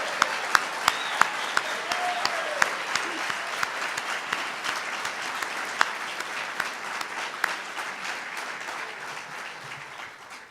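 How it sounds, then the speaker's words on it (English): An audience at the Harold Newman Arena dedication ceremony applauds steadily for about ten seconds, dense clapping with a few sharper claps standing out, slowly fading toward the end. "Let's cheer for the Harold Newman Arena"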